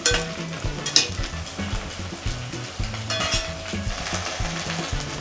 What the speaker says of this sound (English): we're gonna start by putting half of our potatoes into the pan, and then we'll follow it up with our pancake batter